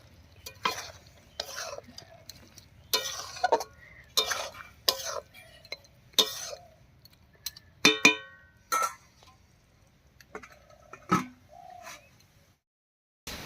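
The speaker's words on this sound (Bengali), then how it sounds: "আর শেষে দেব এক চামচ ঘি এবারে খুব ভালো করে মিশিয়ে" Mung dal with ghee being stirred in a pot, a spoon scraping and knocking in irregular strokes near the mic, with a soft sizzle between strokes and brief silent gaps.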